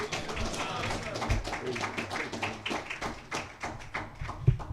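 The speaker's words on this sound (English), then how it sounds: "Another round of applause." An audience at a religious lecture claps for a student minister being called to the rostrum, a patter of many hands rising and falling, with a voice speaking over the clapping.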